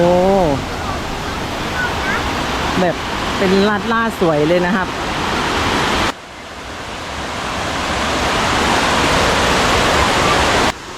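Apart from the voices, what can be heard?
Pha Charoen waterfall, Tak province, Thailand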